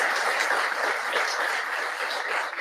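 A large audience applauds a laureate at a gathering with a prime minister, a dense, steady wash of clapping that holds at the same loudness throughout.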